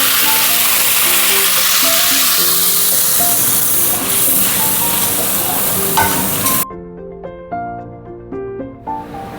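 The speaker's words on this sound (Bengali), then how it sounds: "এই যে তেলটা গরম হয়ে গেছে এবার এর মধ্যে ফোড়নটা ভাজা হয়ে গেছে এবার আমি এই যে আদা টমেটো আর লঙ্কা পেস্টটা করে রেখেছিলাম দিয়ে দেবো" Ginger, tomato and chilli paste hits hot oil in a pan with a loud, dense sizzle that runs steadily, then cuts off after about six seconds, leaving quieter tonal sounds.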